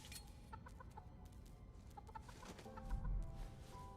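A chicken in the video game Beast of Reincarnation clucks in short repeated bursts over a dense, murmuring game soundscape, with a low thump near the end.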